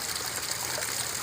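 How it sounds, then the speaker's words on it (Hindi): Water streams and splashes from a burst water pipeline, a steady pressured rush with nearby trickling, continuous and fairly close. "ये देखिए आप कितना प्रेशर से ये पानी कहाँ से आ रहा है"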